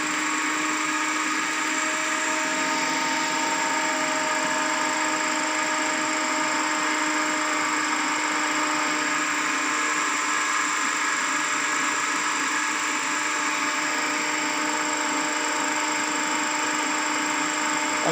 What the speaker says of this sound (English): Adjust the speed of the DC motor with the help of field rheostat till it reaches to rated speed